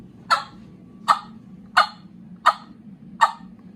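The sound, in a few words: turkey cluck imitated on a Terminator Tube call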